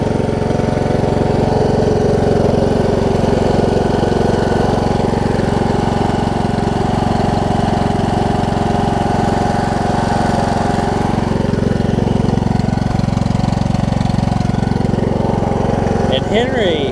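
A Craftsman T2200 riding mower with a Briggs engine and Nikki carburetor runs at a steady idle for the whole stretch, a loud, continuous mid-pitched engine drone with no breaks.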